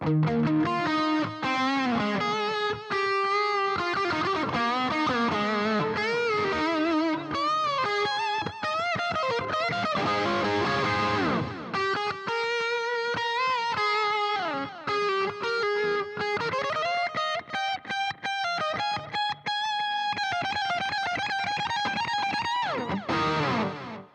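A sustained electric guitar solo through a Boss ME-90 delay effect, bending notes and fast runs echoing continuously, loud and distorted throughout.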